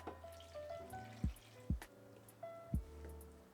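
Water poured into a bowl of flour, yeast, salt and olive oil for focaccia-style sardenaira dough, a few soft dripping splashes in a quiet kitchen.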